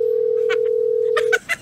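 A telephone calling tone holds one steady, unbroken pitch for over a second while someone places a call, then cuts off as a voice speaks briefly over and after it.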